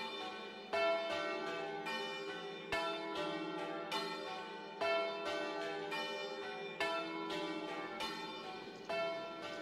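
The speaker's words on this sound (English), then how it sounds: "today the bells are still rung" Church bells peal at the church in Dedham, repeated bright strikes overlapping in a steady ringing sequence, heard at moderate distance without speech.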